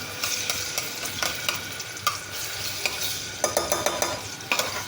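Garlic chutney hits hot oil in a pan for a cluster bean and potato dish, a constant sizzle punctuated by quick rhythmic clacks and scrapes of a spoon stirring nearby.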